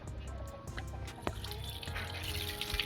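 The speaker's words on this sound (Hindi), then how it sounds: "उसको बढ़िया करके पहले धो लेते हैं" Tap water runs and trickles steadily over a fresh, farm-grown papaya being washed, a low, close splashing flow with small drips and no speech.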